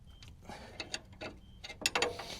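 A ratchet tightens coilover bolts on a 2018 GMC Denali 1500, giving a series of short, close mechanical clicks and ratcheting bursts in an uneven rhythm over about two seconds.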